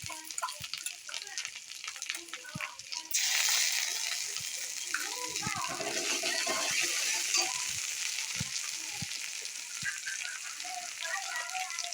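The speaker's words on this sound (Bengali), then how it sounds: "আদা রসুন ভাজা হয়ে গেছে এবার দিয়ে দেবো জিরে বাটা" Ginger-garlic paste sizzles in hot oil as cumin paste goes in, the frying jumping louder around three seconds and holding as a steady crackling hiss with stirring clicks while cooking lotte fish.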